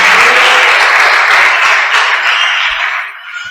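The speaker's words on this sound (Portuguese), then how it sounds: "Dê um aplauso ao Todo-Poderoso" Church congregation giving loud applause, a dense burst of many hands clapping that holds for a few seconds and then tapers off toward the end.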